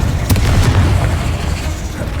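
A Bombarda spell explosion in the video game Hogwarts Legacy booms with a deep, rumbling blast and a sharp burst near the start, then a low roar fading over about two seconds.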